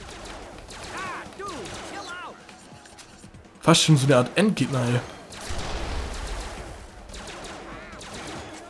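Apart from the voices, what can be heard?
gunfire in Family Guy video game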